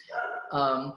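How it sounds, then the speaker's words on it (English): A pet dog barks twice in quick succession indoors, faint and somewhat distant, with no speech over it. "And that's my dog going crazy."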